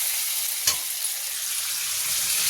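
Chicken pieces and a few potatoes fry in oil, a constant bright sizzle with one sharp clatter early on, close and steady without speech.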